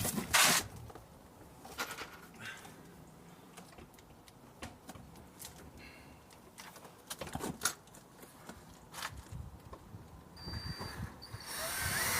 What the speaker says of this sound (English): And then you put your screws in provided.